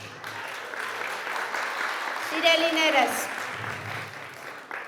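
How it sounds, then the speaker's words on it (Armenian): Applause from an audience at a 2025 mental arithmetic olympiad awards ceremony honoring first-place trophy winners, sustained dense clapping through the whole stretch while a presenter speaks over it. "Եվ այսպես, բուռն ծափահարություններ առաջին տեղի գավաթակիրներին"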